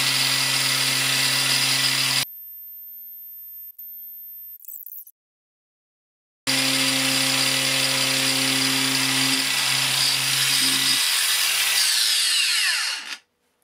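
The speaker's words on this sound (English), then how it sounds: "So now I'm just going to run these batteries flat on the angle grinder." Makita 40V angle grinder run on battery power, its steady high whine cutting out into silence for a few seconds, then spinning back up loud and continuous before winding down at the end.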